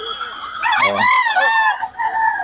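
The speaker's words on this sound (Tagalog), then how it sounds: "Ganda ng linyada ng mga manok ni Boss Tony" Gamecock roosters crow loudly at close range, with one strong drawn-out cock-a-doodle-doo and clucking around it, in a short, busy burst of farmyard calls.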